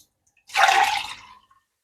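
Water from a bone-dry coconut splashes out in a single short, close burst lasting under a second, then quickly trails off into silence.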